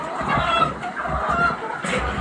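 Several laying hens cluck and murmur close by in a continuous, overlapping chorus, with a brief higher squawk near the end.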